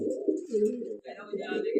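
Pigeons coo close by in low, throaty, repeated rolling calls.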